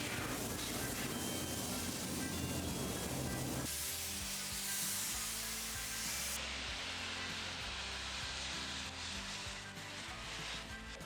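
A spray gun sprays primer sealer on a 1967 Camaro RS in long continuous hissing bursts close by, the airy spray changing tone partway through.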